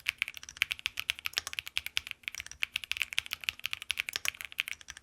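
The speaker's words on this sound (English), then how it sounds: "Switches here are the Quark matte switches that are pre-lubed nylon switches." A mechanical keyboard with pre-lubed nylon Quark matte switches and cherry profile keycaps is typed on at a quick, steady pace, producing a dense run of close, crisp clacks with a few deeper stabilizer thocks.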